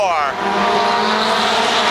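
Midget race cars roaring together at the start of a NEMA Midget feature at Waterford Speedbowl, a loud dense engine blare with rising pitch sweeps as the pack accelerates, with an announcer talking over it.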